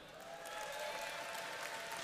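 A short burst of steady applause from an esports tournament crowd, dense clapping that swells slightly and holds at a moderate level.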